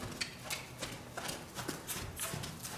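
A young, green horse walks under a rider, its hooves landing in a soft, steady rhythm of muffled close footfalls with faint background noise.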